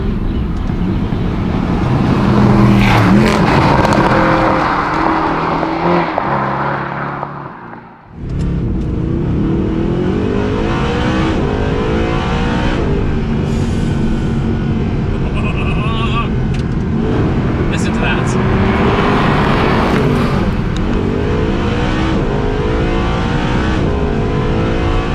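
A Mercedes SLS AMG Black Series engine revs hard while the car is driven aggressively, a loud continuous roar rising and falling with a brief dip early on, with a voice talking over it.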